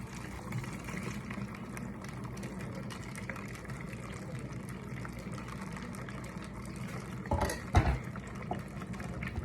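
Hot water poured onto dry ice makes a steady bubbling, hissing wash like liquid churning, with a brief louder pouring splash near the end.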